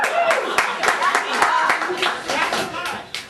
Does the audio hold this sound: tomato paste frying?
no